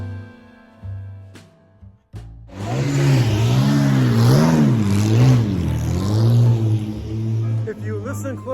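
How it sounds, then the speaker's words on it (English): A Bugatti Type 35 pulls away in Beaune, France, its engine revving up and down in wavering surges before settling into a steady, fairly close drone, with people talking over it. "you can hear the sound of a Type 35 Bugatti going out"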